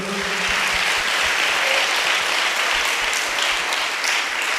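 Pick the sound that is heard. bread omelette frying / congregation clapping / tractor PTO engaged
congregation clapping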